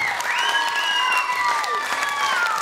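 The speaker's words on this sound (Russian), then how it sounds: "Бурные аплодисменты!" A gala show audience breaks into stormy applause, a dense, steady wash of clapping filling the hall with a few faint cheers and whistles sliding over it.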